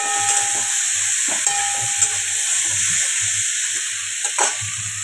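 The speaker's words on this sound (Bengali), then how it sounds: "আর এই যে আদা জিরে কাঁচা লঙ্কা বেটে রেখেছিলাম ওটা দিয়ে দিলাম।" Paste of ginger, cumin and green chili frying in a pan for a vegetarian five-vegetable curry, giving a steady close hiss and sizzle with a few soft stirring clicks and no talking.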